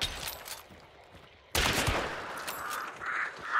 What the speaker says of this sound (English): Excellent shot.